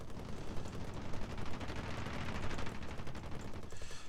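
Machine guns of a P-26A-34 Peashooter fighter in War Thunder fire in sustained rapid bursts, a dense loud rattle of gunfire over engine drone throughout.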